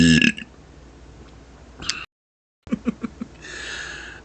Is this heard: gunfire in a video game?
no